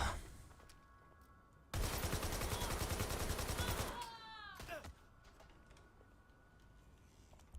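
A gun in the Watch Dogs Legion video game fires a sustained rapid burst of loud crackling shots for about two seconds, followed by chirping electronic sweeps and quieter background game ambience.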